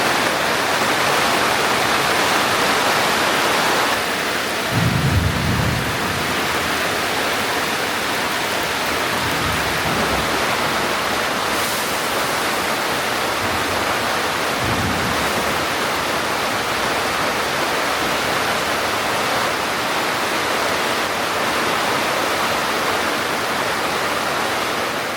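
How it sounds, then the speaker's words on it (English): Heavy rain from a thunderstorm pours down as a loud, dense, unbroken hiss, with a few low rumbles rising briefly beneath it. "Wow, that was quite the storm."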